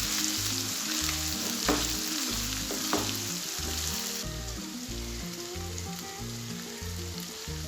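Spices with red chili powder crackle and sizzle steadily in a hot pan, a dense continuous frying hiss with a few brief stirring scrapes and no talking.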